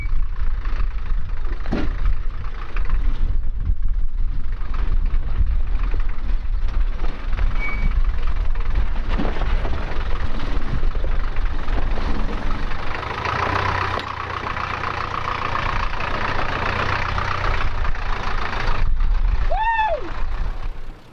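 A small Land Rover 4x4 without power steering works through an obstacle gate at a club off-road challenge, its engine running steadily and loud throughout, with a reversing beeper and a brief rising tone near the end.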